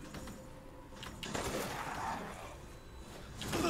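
Gunfire in the video game Resident Evil Village, a few moderately loud, broadband shots spread over a few seconds with a bigger burst near the end, over a low game-ambience rumble.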